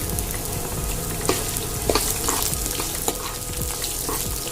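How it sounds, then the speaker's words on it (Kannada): Onions and slit green chillies fry loudly in a pan for savige upittu, a dense close sizzle with occasional spatula scrapes and taps, no voices. "ಈರುಳ್ಳಿ ಹಾಕೋತಾ ಇದ್ದೀನಿ."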